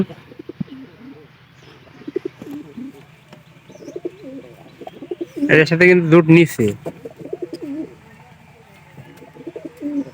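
A pigeon in a loft gives a loud, throaty burst of cooing at close range, surrounded by quieter cooing and someone speaking.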